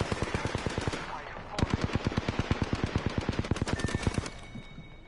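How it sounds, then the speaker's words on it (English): Automatic gunfire in the Apex Legends video game, a long evenly spaced stream of sharp shots fired in rapid rhythm, pausing briefly before another steady burst, with faint game tones late on. "Getting shot at."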